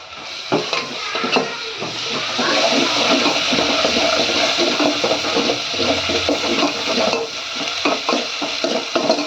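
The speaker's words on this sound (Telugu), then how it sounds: "ఇలా మంచిగా కలుపుకోవాలి. కొద్దిసేపు పచ్చి వాసన పోయే వరకు నీట్గా కలుపుకోవాలి." Fish curry with ginger paste is stirred in a pan on the stove, with a soft continuous sizzle and repeated scraping, clinking strokes of the spoon against the pan, close and fairly quiet, and no talking.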